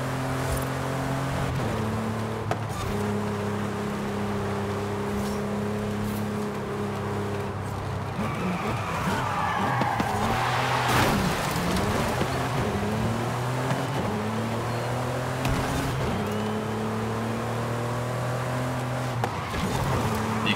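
Race car engine in the video game Forza Horizon 5, roaring steadily through repeated gear changes as it accelerates, with a stretch of tire squeal and skidding in the middle, loud and continuous.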